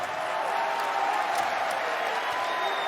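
The crowd at a Call of Duty League esports match, OpTic Texas versus London Royal Ravens, claps in a dense, continuous wash of applause, with faint voices mixed in.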